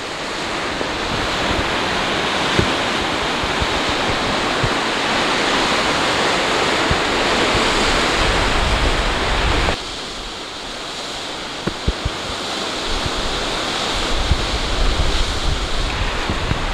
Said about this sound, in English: There's not any big waves coming in, but they are really crashing against these rocks.